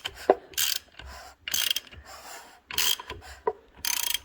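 A ratchet wrench tightens bolts during a Toyota Corolla engine rebuild with valve work, giving repeated bursts of quick clicking strokes separated by short pauses. The ratcheting is close and crisp, and no one speaks.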